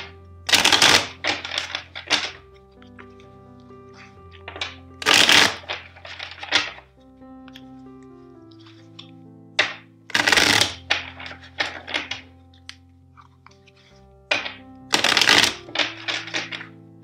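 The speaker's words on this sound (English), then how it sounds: "Let's shuffle four times." Tarot cards shuffled by hand in four bursts of rapid riffling and slapping, each a second or two long, separated by quieter pauses with a faint sustained musical tone underneath.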